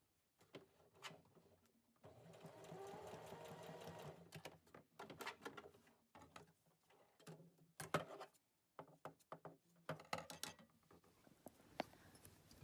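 A sewing machine running stay stitches to hold elastic onto a cloth face mask, with a close rapid whirring stitch run followed by short stop-start bursts and small mechanical clicks, quiet and without speech.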